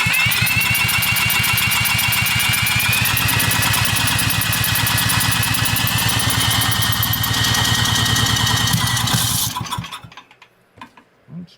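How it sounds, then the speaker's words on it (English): An old Powermate generator engine runs on choke with a loud, steady rapid chugging. It stops abruptly near the end, leaving a few faint knocks. "We're going to give it some choke and see if it'll take off for us."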